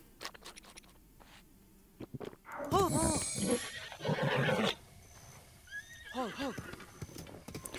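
In the video game Breath of the Wild, a horse gives several loud whinnies with clip-clopping hooves in between, a second neigh following a few seconds later, over a quiet game background.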